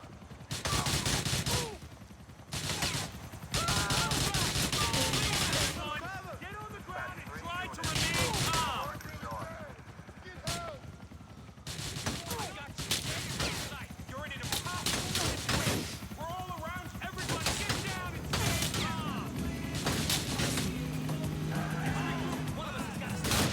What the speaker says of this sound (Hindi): यह लोग तो ऐसा गोली चला रहे हैं